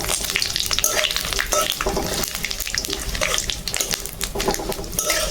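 Bay leaves and dried red chillies fry in hot oil with a loud, continuous close-up sizzle and crackle for khichuri, with no voices.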